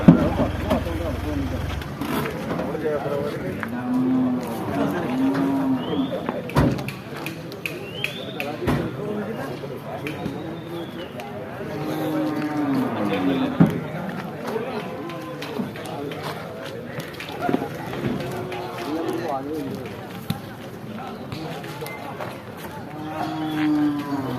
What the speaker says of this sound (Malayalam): വനിതാ പോത്തുകളാണ് ഇപ്പോൾ ഈ നിൽക്കുന്നത്